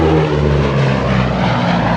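A vintage propeller aircraft flies over the Flying Legends Air Show 2015, its engines giving a loud, steady, throbbing drone with a rough rumbling edge, close and continuous, without any voices.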